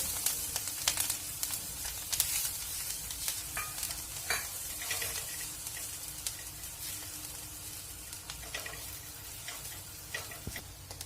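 Peanut ghee poured over roasted green chillies in a pan, giving a steady crackling sizzle with scattered pops that slowly settles over about eleven seconds, close and fairly quiet, with no voices.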